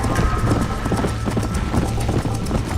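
Horse galloping in the video game Red Dead Redemption, a loud, fast, rhythmic clip-clop of hooves running continuously and close up.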